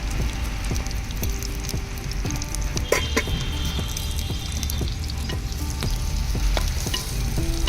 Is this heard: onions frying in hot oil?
yes